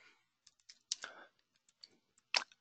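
Typing on a computer keyboard: scattered sharp key clicks at an uneven pace with brief pauses between bursts, close and clear, with no talking.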